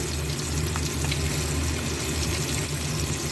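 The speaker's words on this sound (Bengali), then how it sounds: "যার জন্য মাছগুলো উল্টে পাল্টে ভেজে নিচ্ছি" Katla fish pieces fry in hot oil in a pan as they are turned, giving a steady, loud, continuous sizzle and crackle close by with no talk.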